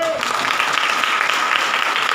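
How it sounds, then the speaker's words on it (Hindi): Steady applause from a seated audience at a Hindi Bible study on the Song of Solomon, dense and continuous clapping filling the room at even loudness. "ताली बजा सकते हैं?"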